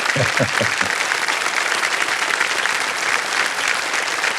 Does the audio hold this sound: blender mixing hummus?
no